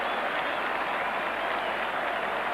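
A jubilant cricket crowd at Headingley applauds the fall of a wicket during the 1975 England v Australia World Cup semi-final, a dense, steady wash of clapping and crowd noise that runs unbroken throughout.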